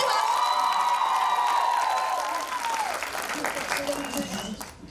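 A crowd at the Saina film trailer launch claps and cheers, with whoops and shouts over the applause while a voice talks through it, the noise gradually thinning toward the end.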